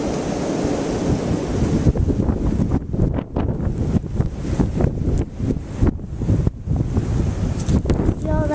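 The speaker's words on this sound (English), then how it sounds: "Here comes the wind." Strong blizzard wind roaring steadily and loudly across the microphone, with gusts surging and dropping in buffeting bursts throughout.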